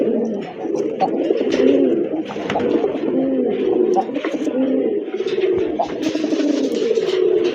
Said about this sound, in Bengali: আরেক জোড়া রাজগোল্লা কবুতর রেড কালারের ভিতর